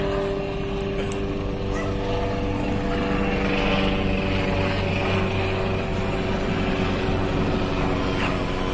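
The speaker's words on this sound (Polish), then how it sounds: "Dwa samoloty na nich." Light aircraft engine droning steadily overhead during a pigeon release, a continuous broadband hum with a low tonal buzz throughout, no talk.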